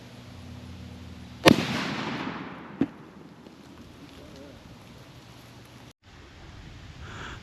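A single loud rifle shot with Winchester ammunition cracks sharply and rings out briefly outdoors, followed a moment later by a fainter secondary crack, then quiet ambience.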